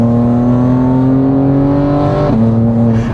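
BMW M2 tuned to over 500 horsepower accelerating on a test drive, a loud sustained engine drone that climbs in pitch, drops briefly at a gear change, then pulls again, heard from inside the car.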